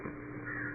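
Crows caw repeatedly in a band-limited radio drama sound effect, steady and close, with no talking over them.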